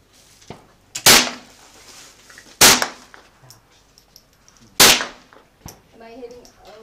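Gunshots at the Carson public shooting range: three sharp, loud cracks spaced a second or two apart, with a few fainter distant shots from other shooters between them and people talking quietly in the background.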